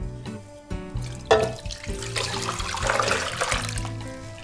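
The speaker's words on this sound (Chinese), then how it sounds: "蓄满热水，没过肘子" Hot water pours into a clay pot over a braised pork knuckle, a close, rushing stream that swells and fills steadily, with a few clinks of the pot at the start.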